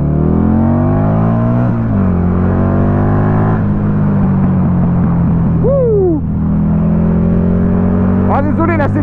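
A Buell XB9S roadster motorcycle with a Harley engine revs and accelerates hard, its loud, close engine note climbing through several rising sweeps and gear changes with a steady low rumble underneath.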